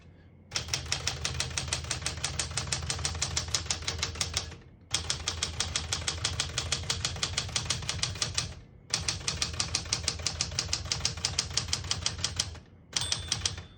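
Brisk typing on a 1978 Smith-Corona Classic 12 vintage portable typewriter, three long runs of rapid, evenly spaced keystrikes with short pauses between them and a brief burst at the end, close and loud with no talk.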